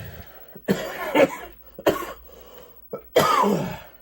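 Several harsh coughs in separate bursts, close and loud, with short pauses and some throat clearing between them.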